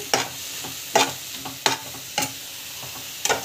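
Ginger garlic paste and other ingredients are sautéed in a pan for pooja food, with a steady sizzle broken by about six rhythmic scraping stirs of a spoon.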